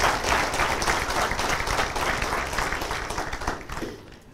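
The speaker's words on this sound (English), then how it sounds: "Just clap for yourself." An audience at a talk claps together in a steady, continuous round of applause that thins out and fades near the end.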